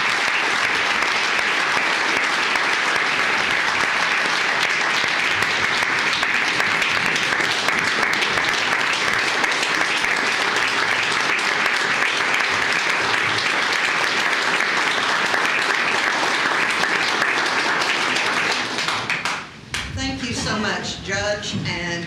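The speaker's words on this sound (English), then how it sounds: "Let's all give a big round of applause to Carla Judson." Sustained, loud applause from an audience at a commissioners court meeting, dense and even for about twenty seconds before tapering off as a voice begins speaking.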